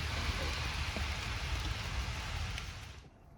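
Steady rain pours outside a bonsai studio, a dense continuous hiss that holds level before cutting off abruptly near the end.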